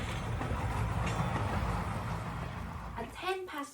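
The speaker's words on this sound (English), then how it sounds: "Just then, the train left the station." A train pulls out of a station with a low, rumbling roll and rattling carriages that fill the background, and a voice speaks briefly near the end.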